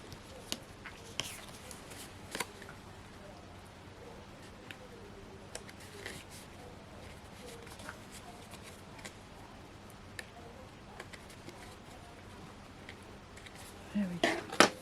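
Scissors snip crafting pieces cut from a Hunkydory Animal Season craft pad and topper set, giving quiet, scattered sharp clicks and a louder cluster of snips at the end, with soft speech in the background.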